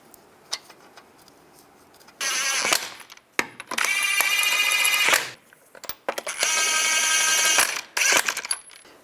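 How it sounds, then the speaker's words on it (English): Lug nuts go onto the wheel of a 2005-2015 Nissan Xterra with bursts of rattling, whirring metallic spinning from a power tool and clinking hardware, heard up close in several separate runs. "Put the lug nuts on."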